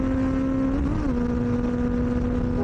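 Benelli 600i motorcycle exhaust droning loud and close at steady high revs in fifth gear, a strong sustained engine tone that briefly wavers and dips partway through, with no voices.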